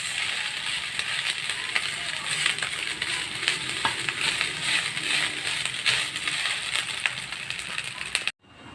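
Fried rice (sinangag) sizzles steadily in a pan for a Filipino breakfast, with occasional scraping and stirring clicks throughout, then cuts off abruptly near the end.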